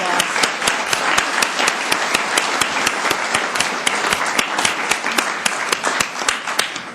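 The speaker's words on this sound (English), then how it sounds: "Let's give them a round of applause." Audience applauding the Columbus, Georgia city council's honoree, a champion young women's soccer team, with steady close clapping from a room full of people, loud and continuous with distinct individual claps throughout.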